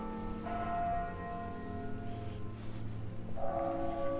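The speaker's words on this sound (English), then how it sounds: "The lovely bells here go off every single hour." Campus bells ring the hour with long sustained tones, a strike near the start and another toward the end, resonating over a low steady hum.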